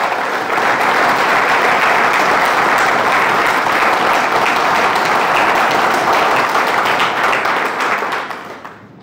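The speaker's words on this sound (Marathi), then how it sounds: "या चौघांसाठी आपल्याला टाळ्या वाजवायच्या" Audience at a Marathi leadership training program applauding, loud and dense clapping that holds steady for about eight seconds and then fades out.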